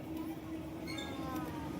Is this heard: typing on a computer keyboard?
no